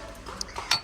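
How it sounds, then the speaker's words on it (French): A porcelain fondue plate is handled, giving a few light clinks and taps, the sharpest near the end, over a quiet room background. "Cette assiette aussi qui est dans la semaine d'action, assiette à fondu en porcelaine."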